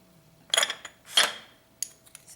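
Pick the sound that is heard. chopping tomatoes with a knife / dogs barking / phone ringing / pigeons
chopping tomatoes with a knife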